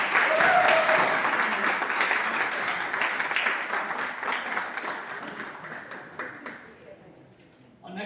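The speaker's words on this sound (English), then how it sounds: "Big round of applause." An audience at a neighborhood civic association meet-the-candidates evening applauds loudly at first, then the clapping thins and fades toward the end, with a voice speaking over it.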